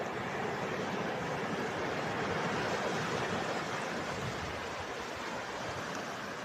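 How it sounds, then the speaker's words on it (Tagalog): Large, clear sea waves wash against the coast of Northern Samar, a soft, continuous rushing surf that stays faint and even with no voices. "Napakalinaw at ang lalaki ng alon."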